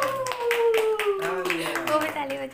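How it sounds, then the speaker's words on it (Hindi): Hands clap at a child's birthday party at home, a few people joining in with quick, uneven claps under prominent singing and chatter from adults and children. "वो भी ताली बजा रहे हैं।"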